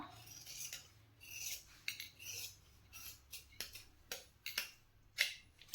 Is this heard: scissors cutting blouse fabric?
yes